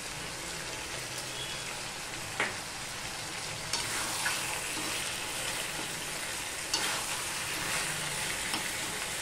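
Soaked chickpeas cook in a pan with ground coriander and cumin, giving a continuous close sizzle and crackle with a few sharp spoon taps as the mix is stirred.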